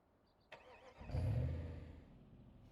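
A 1960s V8 coupe engine in a car-building video game turns over and settles into a deep, steady rumble, loud and close, then eases back toward a lower idle.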